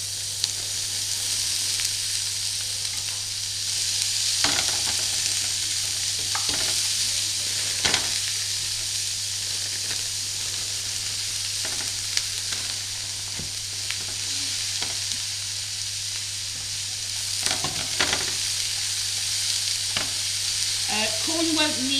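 Corn sizzles and fries steadily in a pan while a utensil stirs and scrapes it at irregular moments, close and continuous.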